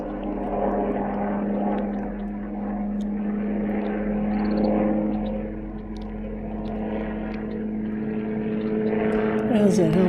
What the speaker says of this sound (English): Helicopter. He's coming back this way.